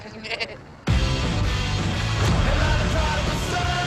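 A goat bleats in a few short cries in a TV show trailer, then a loud, dense wash of music and effects abruptly takes over and holds to the end.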